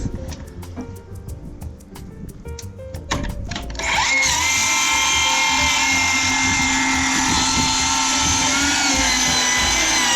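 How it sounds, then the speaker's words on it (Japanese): A power saw cuts plywood sheets for the walls of a small water tank shed, starting with a few knocks and handling noises, then a loud, steady whining drone that runs without a break to the end. "今度はね、壁作るんでベニヤ切っていきます。"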